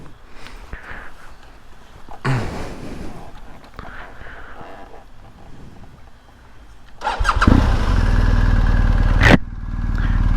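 A 2021 BMW R 1250 GS motorcycle running a BT Moto stage 2 ECU flash starts up after some quiet handling noises, the starter catching and the boxer engine settling into a loud, steady, close idle.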